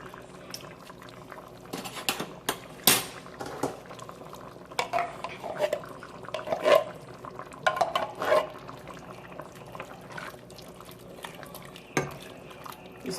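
A spoon stirs canned carrots into a pot of homemade chicken noodle soup, with irregular clinks and scrapes against the pot over a low, continuous bubbling simmer.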